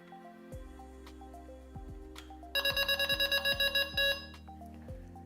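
A Delkim Rx-D carp fishing bite alarm receiver gives a few short beeps, then a rapid burst of about a dozen loud, shrill pulsing tones.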